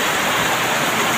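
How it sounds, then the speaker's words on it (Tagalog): Very heavy rain pouring down during a flood, a dense, loud, continuous roar of water with no other sounds. "sobrang lakas po ng ulan mga guys"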